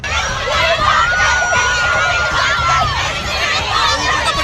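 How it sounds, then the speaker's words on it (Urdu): Female students at a protest outside Punjab College campus 10 in Lahore raise a loud, continuous mass of shouting and chanting voices, a dense crowd sound heard close by throughout. "طالبات وی وانٹ جسٹس کے نعرے لگا رہی ہیں"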